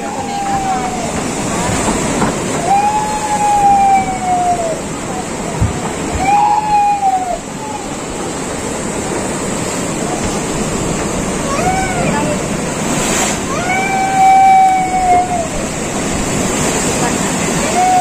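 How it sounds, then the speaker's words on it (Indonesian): Big ocean waves crash and surge on rocks along a tourist coast, a constant loud roar of surf with wind, while people talk nearby. "ombaknya besar."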